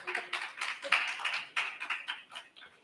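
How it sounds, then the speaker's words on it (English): A small audience claps softly in a quiet room, a brief, sparse patter of hands that rises in uneven bursts and then tapers off. "You can clap."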